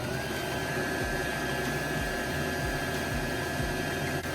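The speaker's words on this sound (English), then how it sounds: "Then I usually blow dry it on high for like 20 minutes." A Hot Shots hair dryer blowing on its high setting during a curly hair routine, a loud continuous whooshing drone with a steady whine and faint low thumps, close by with no talking.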